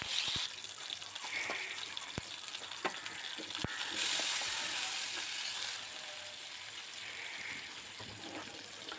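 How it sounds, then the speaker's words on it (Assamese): Okra fries in a little mustard oil in a kadai with a faint, steady sizzle. A few soft clicks of stirring are heard close by, and there is no talk. "কেৰাহী এটাত অকণমান মিঠাতেল দি দিম ভেন্দিখিনি ভাজিবলৈ।"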